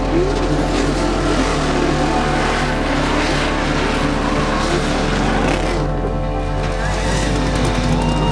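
A drag racing car in the Klutch Kickers round of the World Crisis Tour makes its run while down on power, with a loud, steady engine roar and drone holding throughout, alone without talk.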